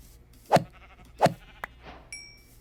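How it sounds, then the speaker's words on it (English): Sheep in Minecraft bleat twice in clear, close calls, followed by a short click and a brief high chime. "We have sheep."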